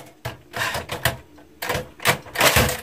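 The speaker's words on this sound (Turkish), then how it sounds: "Yalnız tuşların bazıları yeri gelmiyor ama yine de iyi, güzel durumda gözüken bir daktilomuz var." Keys clatter on an old discarded typewriter with some sticking keys, struck in uneven bursts of sharp mechanical clacks close by.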